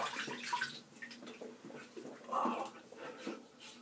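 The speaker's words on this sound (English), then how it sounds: "Now I will just rinse my face and I'll be right back." Water splashes and runs as a face is rinsed at a sink after a shave with a long-handled razor, soft and close, with uneven bursts of splashing over about four seconds.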